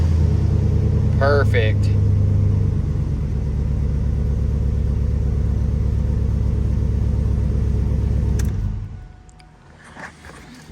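A 2003 Chevy Silverado pickup after a fuel pump replacement, its engine running with a loud, steady low rumble for about eight seconds before cutting off; someone speaks briefly over the engine noise.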